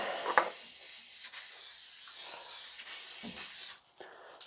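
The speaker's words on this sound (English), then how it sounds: "Just going to hit it with some brake cleaner." Brake cleaner sprayed from an aerosol can onto the front brake hose of a BMW E66 740Li, a steady close hiss lasting several seconds before cutting off.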